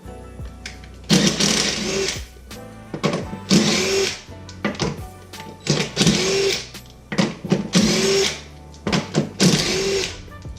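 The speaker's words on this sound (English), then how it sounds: "Grab our impact socket. Alright. Let's take these tires off." An impact wrench takes the lug nuts off a Jeep's wheels in repeated loud, close bursts, each a few seconds of whirring hammering, with short pauses between them.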